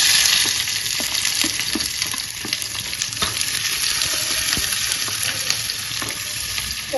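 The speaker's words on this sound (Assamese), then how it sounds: "প্ৰথমতে পিঁয়াজখিনি ভাজি লওঁ" Onions frying in a pan for an Assamese chutney, a steady close sizzle and crackle running throughout with occasional stirring scrapes and no talk.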